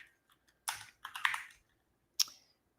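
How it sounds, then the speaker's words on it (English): Keys clack on a loud computer keyboard: a few sharp, close clicks come in short uneven bursts, with near silence between them. "I know I have a loud keyboard."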